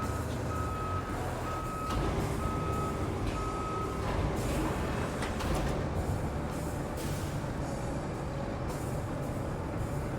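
A crane truck in Roadcraft sounds its reversing alarm, four evenly spaced beeps over the first few seconds, riding on a loud, continuous engine rumble and heavy machinery noise.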